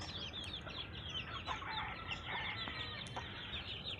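Chickens clucking and murmuring while being fed outdoors in the early morning, a busy flock of soft overlapping calls at moderate distance.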